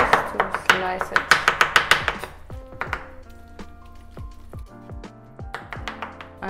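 A knife cuts through the soft inside of an aubergine on a board, a quick run of close, crisp taps followed by sparser cuts under a steady background hum.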